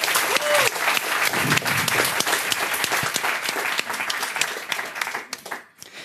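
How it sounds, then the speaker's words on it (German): Loud audience applause at a youth hackathon event in Ulm, a dense steady wash of many hands clapping that fades toward the end, with a brief voice near the start. "Einen tobenden Applaus bitte."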